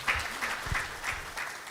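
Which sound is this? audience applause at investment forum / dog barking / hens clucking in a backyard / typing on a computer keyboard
audience applause at investment forum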